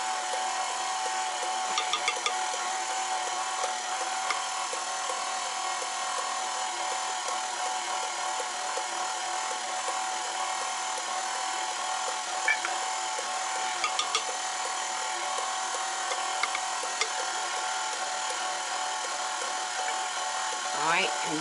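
An electric stand mixer runs steadily while mixing cheesecake batter, giving a continuous motor whir with faint clicks as a person talks over it.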